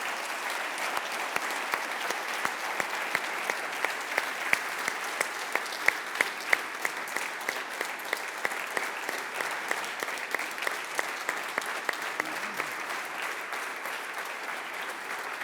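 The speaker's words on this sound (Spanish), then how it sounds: "os quería pedir un gran aplauso a nuestro presidente de la Federación Socialista Asturiana, a Pablo, que nos acompaña." Audience at a Spanish Socialist party event in Asturias breaks into sustained, dense clapping that holds steady and loud throughout, with no voices over it.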